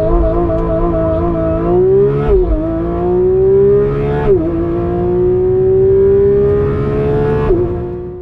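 A Porsche 911 GT3 RS on a speed test track accelerating hard, its engine note climbing steadily through several gears with brief dips at each upshift, loud and close throughout.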